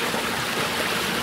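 Water rushes out of a farm pond in a steady, broadband flowing wash, close and continuous with a faint gurgle and no voices.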